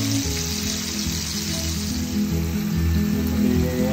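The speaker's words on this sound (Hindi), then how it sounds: "हमारा फिश, थोड़ी देर में फ्राई हो जाएगी।" Sheri fish sizzling steadily in hot oil in a pan, a dense continuous crackle and hiss at close range, loud and unbroken throughout with no talking.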